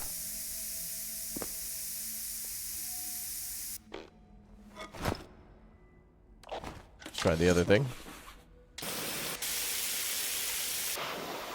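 Decontamination spraying in a realistic historical disaster video game, long hissing spray bursts starting and stopping in turn, mixed with clunks and a voice speaking.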